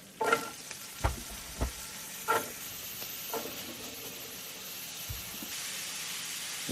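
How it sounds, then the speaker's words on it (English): Vegetables sautéing in a pan, with carrots, celery root and rutabaga for shepherd's pie: a steady faint sizzle broken by several sharp stirring knocks and scrapes spaced through the clip. "now we're just going to saute these guys"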